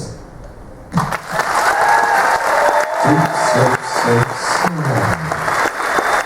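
A crowd bursts into applause and cheering after a quiet moment, loud and sustained, with whistles and shouts rising above the clapping.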